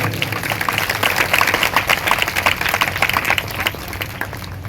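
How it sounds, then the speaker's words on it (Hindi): Church congregation at a Christian ministry service clapping loudly together, a dense, steady wash of hands that carries through the whole stretch with no pause. "सभी जोर से तालियां बजाएंगे"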